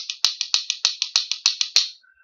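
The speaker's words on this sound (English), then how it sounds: "Part number 3 is a continuous couplet like this right here." Rhythm bones play a steady run of sharp, dry clicks in a quick even rhythm, about a dozen strokes with slight accents, then stopping abruptly.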